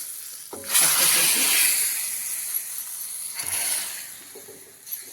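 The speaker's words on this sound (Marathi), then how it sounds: "ह्याला फोडणी देऊन घेणार आहोत आपण." Spice tempering in hot oil sizzles loudly with a steady hiss after a sharp start, easing slightly midway, then flaring again near the end.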